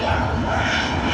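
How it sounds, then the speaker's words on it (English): Engine roar of a Qantas Boeing 737 at Sydney Airport, a steady loud broadband drone that fills the whole moment without a break. "Here we have a Qantas Boeing 737."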